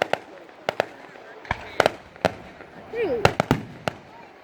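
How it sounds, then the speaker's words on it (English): Fireworks bursting at a celebration, sharp booms arriving at irregular intervals, some close together, with a whistling rocket trail in the middle and people exclaiming and talking between the blasts. "Look at them fireworks."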